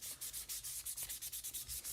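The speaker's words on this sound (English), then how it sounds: "This is a low-key polishing aluminum night." Aluminum vintage motorcycle part being polished by hand without power tools, giving a quiet, regular back-and-forth rubbing with about a dozen even strokes in quick rhythm, close up and alone.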